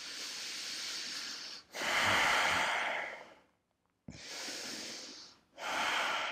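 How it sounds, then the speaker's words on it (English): Deep, slow yoga breathing, heard close and unhurried as two long inhale-and-exhale cycles of airy, rushing breath with short silent pauses between them, no talk. "Give it two more deep breaths."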